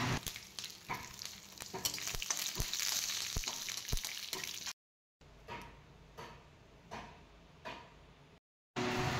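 Whole spices tempering in hot oil, a busy crackling sizzle with sharp pops and ticks, loud at first, then quieter and broken up after a short gap of silence, no talk.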